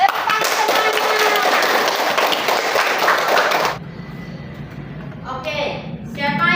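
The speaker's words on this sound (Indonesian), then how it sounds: "Tepuk tangan semuanya." A classroom of students claps together for several seconds in a dense, loud burst that cuts off abruptly, followed by quieter room noise and a few faint voices.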